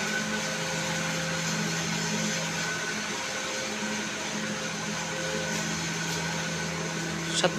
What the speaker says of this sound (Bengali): বক্সটা অন করতেছি আপনারা দেখুন মোটরটা চালু হয়ে গেল